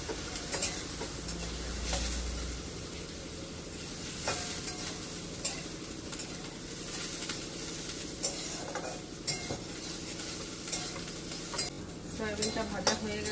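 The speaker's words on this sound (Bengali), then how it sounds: "সয়াবিনটা একটু লাল লাল করে ভেজে নেব" Soybean chunks sizzle steadily while frying in a pan, with repeated clinks and scrapes from stirring spread throughout and sharper clatter near the end.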